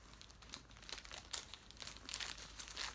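A padded bubble envelope is torn open by hand to get at a diamond painting kit, giving a run of close, quiet crinkling and crackling bursts of plastic bubble wrap and paper with no talking.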